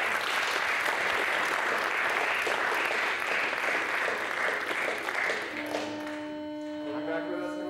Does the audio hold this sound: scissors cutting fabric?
no